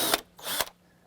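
Two short whirring bursts from a power drill pre-drilling into a long wooden deck joist by a metal joist hanger, each about a quarter second, close and fairly loud, with a brief pause between.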